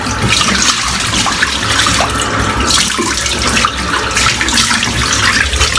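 Tap water gushes steadily and loudly into a basin, a continuous close splashing rush with no pauses.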